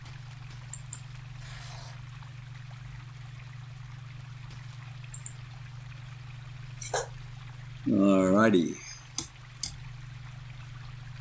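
A water pump running in Grim Dawn gives a steady low mechanical hum with a faint trickling stream beneath it, and a brief voice briefly cuts in over the drone.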